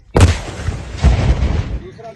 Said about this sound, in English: a controlled explosion.